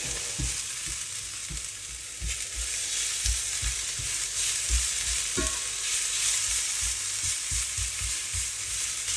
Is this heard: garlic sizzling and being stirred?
yes